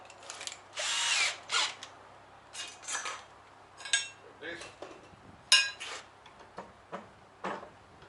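A power drill whirs in short bursts while fitting solar equipment to a Toyota Coaster, starting and stopping repeatedly, mixed with clinks and taps of handled metal parts nearby.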